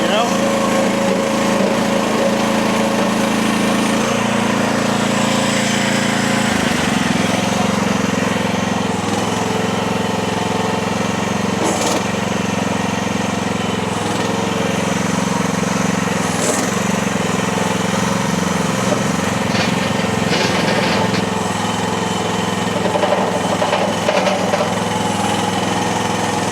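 A cheap mini skid steer's small engine runs steadily and fairly loud throughout, with a constant droning hum whose pitch shifts slightly near the start, and faint voices occasionally under the noise.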